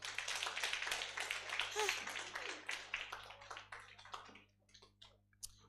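An audience at a university moot court competition claps in a quiet, scattered patter that thins out into a few isolated claps, heard faintly from a distance with voices mixed in.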